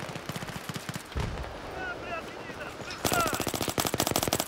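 Rapid bursts of G18 pistol fire in the Battlefield 3 video game, loud fast rattling volleys at the start and again in a denser stretch at the end, with a quieter gap of game ambience between.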